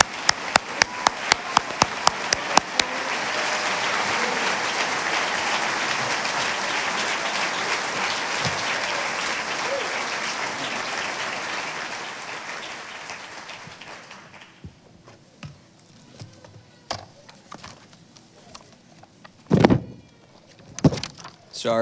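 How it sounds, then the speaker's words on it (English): Commencement audience rising to applaud the salutatorian heading to the podium, a few sharp opening claps swelling into long, dense applause that fades out after about fourteen seconds, followed by scattered knocks and rustling of the hall. "Could we all rise and applaud the accomplishments of George Palakis as he comes to the podium"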